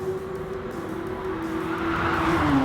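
Audi race cars at Bathurst in a racing video game, a sustained engine tone holding steady then shifting pitch as a car accelerates, with a second engine rising underneath.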